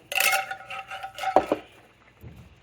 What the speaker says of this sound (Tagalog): Haluin nga natin ulit.